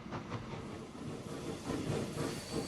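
A train runs in the Transport Fever 2 simulation game, set in East Yorkshire, giving a steady, faint rolling rumble with soft hiss and light rhythmic clatter, with no talking over it.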